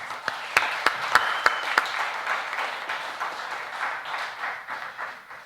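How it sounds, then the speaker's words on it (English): Moderate applause from a congregation at an intergenerational church service, with a few sharp nearby claps early on over a softer, steady wash of clapping that gradually thins. "Let's give her another round of applause."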